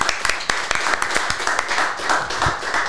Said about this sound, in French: Merci à toi, on t'applaudit.